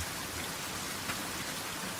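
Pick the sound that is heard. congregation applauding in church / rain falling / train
rain falling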